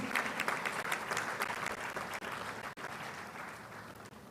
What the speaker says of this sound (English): Shall we please applaud him?